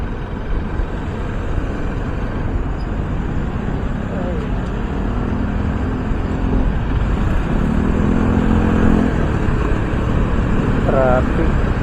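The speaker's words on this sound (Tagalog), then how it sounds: "Traffic." Cars and motorcycles pass along a road in steady traffic, making a constant engine rumble with passing swells. A few faint voice-like sounds come through briefly.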